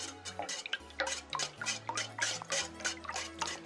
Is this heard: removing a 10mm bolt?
no